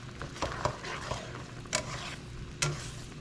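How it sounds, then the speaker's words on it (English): Creamy paprika pork sauce heats in a pan toward a boil, giving a soft low bubbling hiss with a few sharper spoon clinks and scrapes, close by and brief with no talk. "And ours is coming to a boil."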